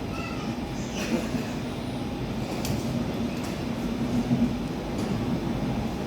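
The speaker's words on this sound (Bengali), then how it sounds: "এই যে ট্রেনটা এখন বেরিয়ে যাচ্ছে" A passenger train pulls out of a station, heard from on board or beside the platform. A steady, continuous low rumble and rolling noise lasts throughout, with faint squeals above it.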